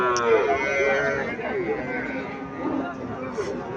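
Calves moo loudly and close by at a cattle market in Comilla, Bangladesh, with drawn-out, wavering calls over the murmur of a crowd and nearby voices.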